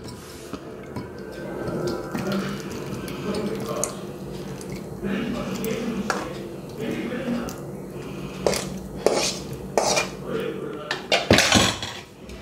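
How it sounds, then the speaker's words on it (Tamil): Karunai kizhangu kara kuzhambu curry scooped from a pot into a bowl, with scraping of a ladle, wet squishy pours and a burst of metal clinks near the end, while a person talks. "ஸோ இதை நம்ம ஒரு பவுலுக்கு மாற்றிடலாம் வாங்க."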